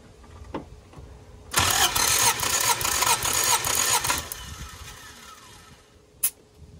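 A car engine cranks on the starter for a cylinder compression check, a loud, rapid rhythmic churning lasting about two and a half seconds, then it stops, leaving quiet background noise with a couple of faint clicks.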